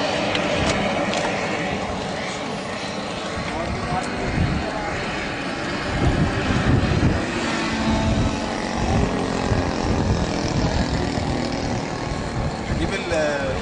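An RC model airplane engine drones steadily throughout at an RC airfield, with people talking loudly nearby over the constant buzz.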